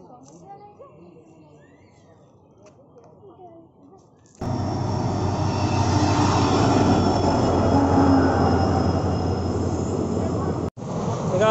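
A train pulls out of Nabadwip Dham station on its way to NJP, its loud, steady rumble and wheel noise swelling up suddenly after a quieter stretch and carrying on close by, with a brief break near the end.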